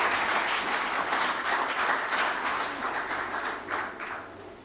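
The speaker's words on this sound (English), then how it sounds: "Can we clap our hands?" Audience at a general assembly applauding new members, a dense, steady round of clapping that fills the hall and gradually tapers off.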